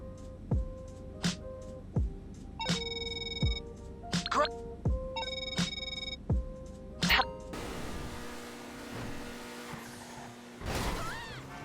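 In GTA Online, a game phone rings with a repeated electronic tone: roughly eight regular chimes, each with a low thump, followed by a burst of noisy static and clatter toward the end.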